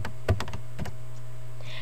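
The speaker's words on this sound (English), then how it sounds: "Press the Alt key on your keyboard" A few sharp clicks from a computer keyboard key being pressed, close and distinct, in a quiet room.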